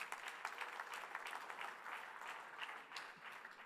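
Steady, fairly distant applause from an audience at a Dubai real estate launch briefing, an even patter of many hands clapping throughout with no voices over it.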